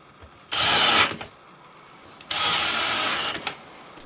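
A power drill drives screws into a wooden photo booth panel in two bursts of whirring, each about a second long, separated by a short pause and heard up close.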